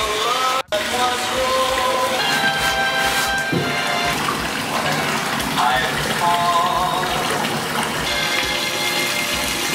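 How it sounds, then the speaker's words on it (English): A home shower runs steadily, its constant hiss of spraying water filling the room while jazz music plays in the background, with one brief dropout near the start. "Shower."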